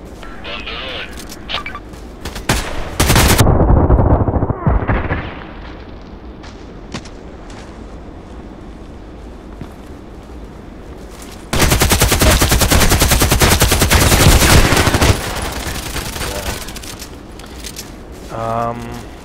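Rapid automatic gunfire from a machine gun in the online shooter Contract Wars, with two long loud sustained bursts separated by quieter game sounds and scattered single shots, all close and dominant.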